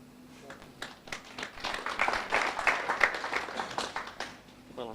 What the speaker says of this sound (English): Well, a smattering of applause.